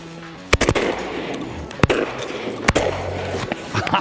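Shotgun blasts ring out at geese during a river waterfowl hunt, three sharp, loud reports spaced over a few seconds against a steady outdoor background.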